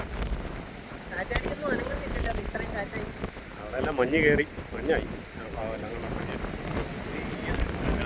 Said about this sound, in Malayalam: സൂപ്പർ കാറ്റല്ലേ.